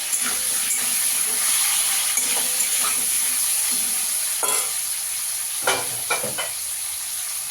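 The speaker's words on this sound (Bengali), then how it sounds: "নুন হলুদ দিয়ে ওলকপিটাকেও একটু ভেজে নেবো ভালো করে।" Kohlrabi frying in a pan with salt and turmeric, giving a steady close sizzle and hiss broken by scraping stirs, with a few sharper bursts near the end. No one speaks.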